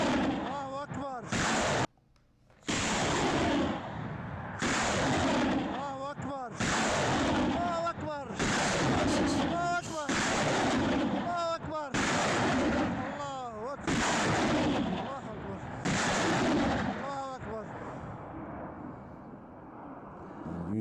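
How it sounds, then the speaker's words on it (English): Gunfire from a clash between the Syrian army and SDF forces, loud sharp shots repeating at an irregular pace for about twenty seconds, with voices heard among the blasts. "this is just a minute long of the exact same thing. Just shots after shots after shots."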